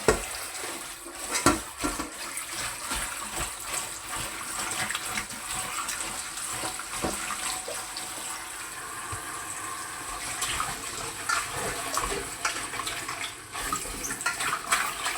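Vegetables are washed under running tap water, a steady close rush of water with irregular splashes and clatter as they are handled, continuous throughout.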